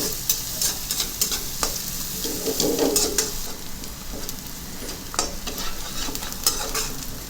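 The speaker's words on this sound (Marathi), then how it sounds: "आता एक मोठ्या आकाराचा कांदा असा बारीक चिरलेला आपल्याला एखाद मिनिटं फ्राय करून घ्यायचं आहे" Finely chopped onion fries in oil in a pan, sizzling steadily while a spoon stirs and scrapes with irregular taps against the metal, close and clear with no talking.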